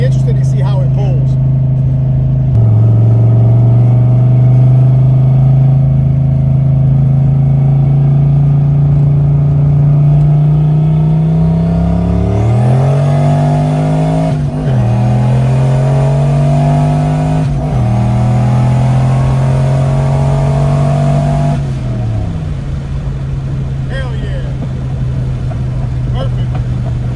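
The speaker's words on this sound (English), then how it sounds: "We're gonna go out here and make a hit, and I want to get a wide open throttle." A loud, close turbocharged car engine roars at wide open throttle, its pitch climbing hard, dipping briefly at gear shifts, then pulling high again before easing off.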